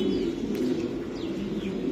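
A racing pigeon coos in a continuous low, throaty burble that runs throughout, with faint chirps from other birds in the loft at a bird farm.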